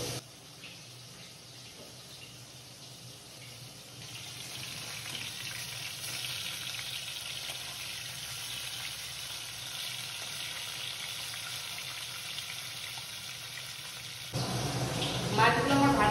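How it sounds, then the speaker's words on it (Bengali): Fish sizzle in hot oil in a pan over a gas flame, a continuous crackling fry that grows louder after the flame is raised and jumps again near the end. "মাছগুলো আমার ভাজা হয়ে গেছে"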